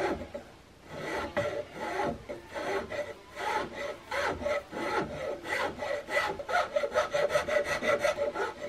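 Hand file rasping the wooden stock of a CVA Hawken muzzleloader rifle kit while it is shaped in a clamp, repeated rhythmic back-and-forth strokes, close and loud, growing quicker toward the end, with no speech.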